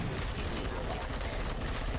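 Rapid gunfire from Robocop: Rogue City crackles in a dense, continuous burst of overlapping shots that sounds like a firefight, with a voice talking over it.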